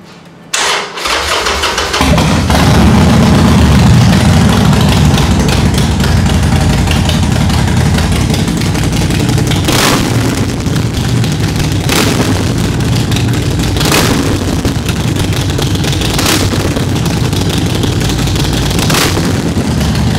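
Motorcycle fitted with Vance & Hines exhaust starts up with a loud crank, then runs at a deep, rumbling idle close to the microphone, punctuated by several sharp throttle blips at regular intervals.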